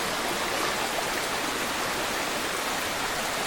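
Stream water rushing at a hiking river crossing in the White Mountains wilderness, a steady loud broadband wash of flowing water, close and constant, with no voices.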